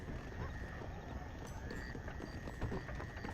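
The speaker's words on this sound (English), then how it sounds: "I asked Nastas to bring the horses around front" Horses' hooves clip-clop steadily in a Red Dead Redemption Western game scene, a faint, quiet rhythm of hoofbeats with a soft whinny over low ambient background noise.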